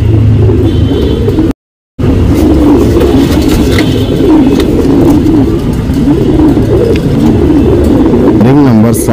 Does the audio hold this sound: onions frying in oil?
no